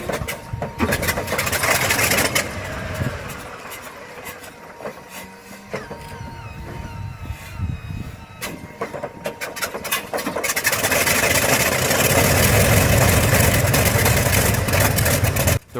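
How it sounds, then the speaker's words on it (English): A Wright R-3350 Duplex Cyclone, an 18-cylinder twin-row supercharged air-cooled radial aircraft engine, cold starting: loud coughing, sputtering bursts build into a sustained roaring run that swells louder near the end. "The Wright R3350 Duplex Cyclone is an American twin-row, supercharged, air-cooled, radial aircraft engine with 18 cylinders"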